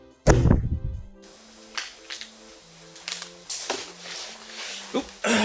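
A homemade holiday gift cannon is fired in a workshop, giving one sharp, loud pop near the start that decays quickly, followed by quieter clicks and soft tonal sounds.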